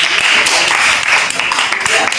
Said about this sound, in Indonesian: Berikan tepuk tangan untuk kelompok yang pertama.